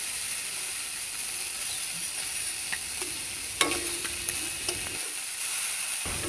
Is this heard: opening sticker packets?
no